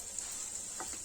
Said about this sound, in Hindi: देखिए हल्दी इतना भुना गया है। थोड़ी देर और भूनेंगे।